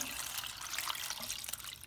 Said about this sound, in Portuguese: aqui tem 1 litro de água. Eu vou colocar na panela.